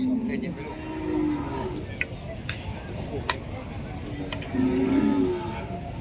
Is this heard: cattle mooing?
yes